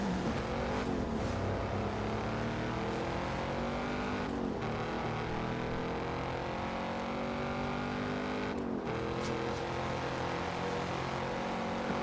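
Lamborghini engines scream during a car chase, a loud sustained roar whose pitch climbs and drops through repeated gear shifts over about twelve seconds, with no voices.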